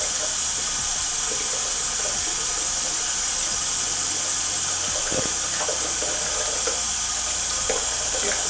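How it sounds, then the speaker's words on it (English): Hot water runs from a tap in a sink before shaving, a steady hiss of flowing water that stays even and fairly loud throughout, with a few faint knocks and no speech. "So let's go ahead and turn the hot water on."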